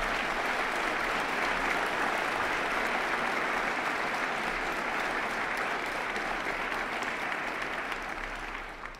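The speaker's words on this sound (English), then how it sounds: "Let's give their strength and perseverance a round of applause" Audience applause fills a State of the City address in 2018, a dense steady roar of many hands clapping for the whole stretch, with no talk over it, fading slightly at the very end.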